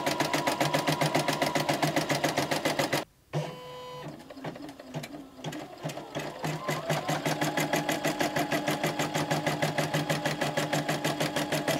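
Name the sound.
Poolin EOC05 embroidery machine stitching placement lines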